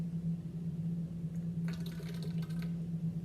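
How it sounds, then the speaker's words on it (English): Titrant solution poured into a glass lab buret, a short soft liquid trickle and splash lasting about a second, close and faint over a steady low electrical hum. "So I'm going to pour a little bit of that in there."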